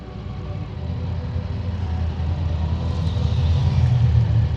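Triumph Tiger 900 GT Pro motorcycle riding with a steady, droning engine rumble and wind noise, growing slightly louder toward the end as it shifts up through the gears via the quick shifter.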